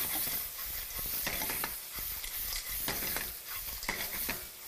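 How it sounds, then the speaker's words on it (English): Clams with ginger and Portuguese sausage sauté in a hot pan, giving a steady close sizzle and hiss with scraping stir strokes and light clatter throughout. "Saute. And then get the flavor out and put all the clams right in here."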